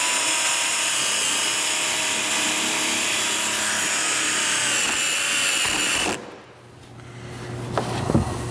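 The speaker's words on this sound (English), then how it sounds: "We're going to stick this right here and drill it in there" A power drill whines loudly and steadily for several seconds, then cuts off, leaving a few faint mechanical clicks.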